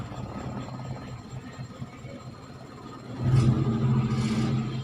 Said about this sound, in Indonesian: Kita tes starter.